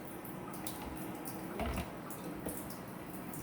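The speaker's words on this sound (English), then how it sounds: "I think we need to do just a little bit more of that boiling water." Boiling water splashes and trickles into a bowl of cornmeal for hot water cornbread, a steady close pouring wash with small drips and a brief thump midway.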